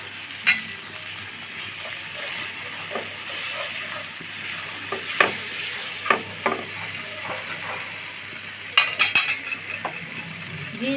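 Soybean curry with ginger paste sizzles and fries in a pan while a utensil stirs it, scraping and clattering against the metal in scattered bursts over a steady hiss.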